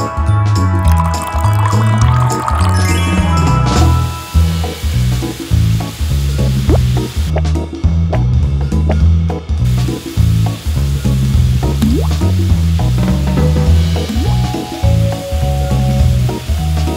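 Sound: fish frying in a pan

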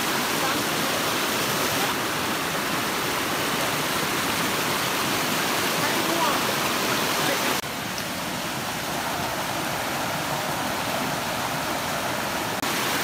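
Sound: forest stream with small waterfall

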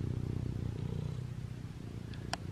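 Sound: cat purring

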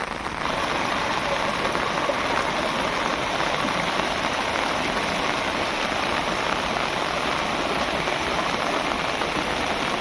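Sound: monsoon rain falling

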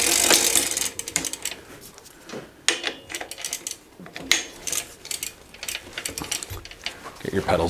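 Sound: pedal wrench tightening bicycle pedal, pedaling backwards

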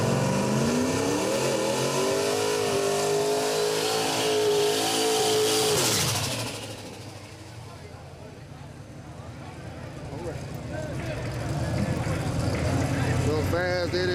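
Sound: drag race car engine revving on a shakedown run

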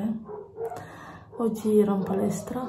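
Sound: dogs barking

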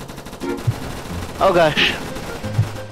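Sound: gunfire from a video game defending Area 51

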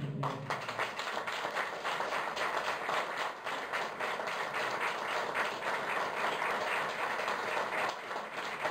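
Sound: applause

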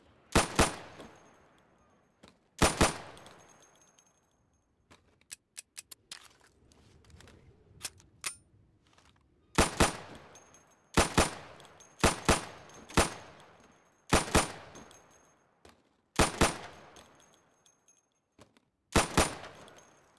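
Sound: gunfire shooting pop-up targets in Insurgency video game

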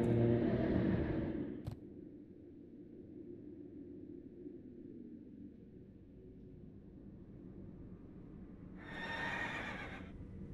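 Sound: horse neighing in the video game World of Warcraft

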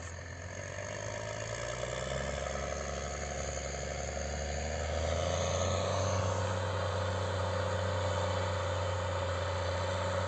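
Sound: tractor engine running

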